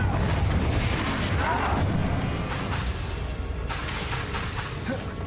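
A Confringo spell blast in the Hogwarts Legacy video game: a loud, dense burst of explosive booming and crackling that fills the whole clip and fades only slightly toward the end.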